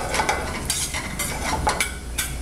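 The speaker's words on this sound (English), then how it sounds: "So you can see the pine nuts are quickly beginning to toast." Pine nuts toast and crackle in a hot pan, a steady close sizzle broken by repeated scraping stirs and light clinks of the utensil, with no voices.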